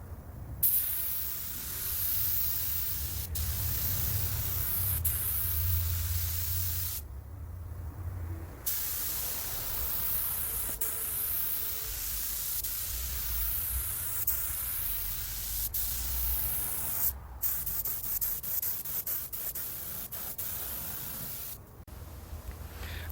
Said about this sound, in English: So now I'm gonna go ahead and give it the second coat of base.